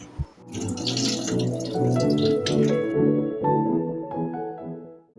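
Half a glass of lentils rinsed in a pressure cooker under running water, a continuous close splashing and trickling with bright tonal ringing from the vessel, swelling and then easing off near the end.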